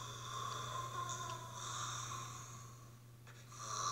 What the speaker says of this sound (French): Ce sont des ronflements de cyclopes qu'on entend